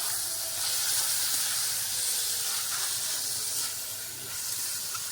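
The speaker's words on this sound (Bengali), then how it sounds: "এই সঙ্গে ভেজে নিয়ে ভালো করে কষে নেবো" Chicken with spices fries in a pan, making a loud, steady hiss of sizzling that swells and eases slightly throughout, close by with no talk.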